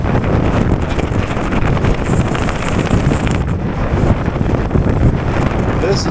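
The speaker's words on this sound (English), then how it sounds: "My concern is get a gust strong enough that can blow me off the bike, tip the bike over." Strong, gusty wind roars across the microphone of a rider on a Wooken e-bike in bad weather, a loud, continuous buffeting rumble that never lets up.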